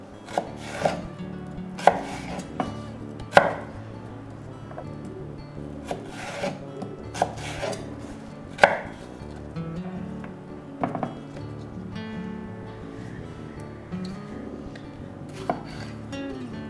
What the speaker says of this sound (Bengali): টমেটোটা একটু বড় করে কাটলেই ভালো, ঝোলে একেবারে গলে যাবে না